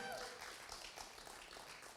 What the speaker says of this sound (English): That was a golf clap, but we'll just move past it.